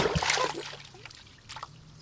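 Radio-play effect of a ball splashing into the water of a well: a brief wet splash followed by dribbling, sloshing water that settles into quieter trickles.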